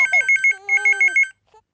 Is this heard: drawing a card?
no